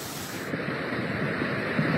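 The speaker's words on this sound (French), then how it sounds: "le Gir aussi s'est transformé en torrent" The Gir river in Vallouise, Hautes-Alpes, swollen into a raging torrent after torrential rain, roars as a dense, steady, loud rush of water with no break throughout.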